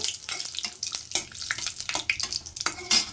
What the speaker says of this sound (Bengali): তো ফোড়নটাকে একটু ভেজে নেব